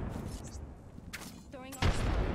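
Frag grenade detonating in the Apex Legends shooter, a sudden loud blast late in the moment over a busy din of game noise and a voice beforehand.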